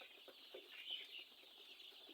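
Broiler chickens on a poultry farm cluck softly and continuously from a distance, a faint steady murmur of many birds with no talking.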